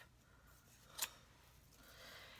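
A single quick snip of scissors cutting craft pieces in half for a Valentine's Day bow, crisp and close, standing alone over a quiet background.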